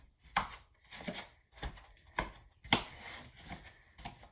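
Knife cutting through dates on a board, a series of about eight sharp, separate chops in an irregular rhythm, close and quiet with no talk.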